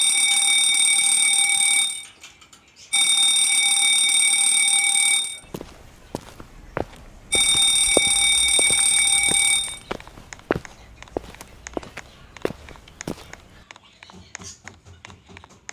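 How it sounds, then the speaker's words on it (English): Fire alarm pulled indoors, blaring a loud piercing electronic tone in long bursts separated by short gaps, then cutting out, followed by clattering footsteps and bumps as people move about. "I'm going to pull the fire alarm for them to stick that there's actually a fire"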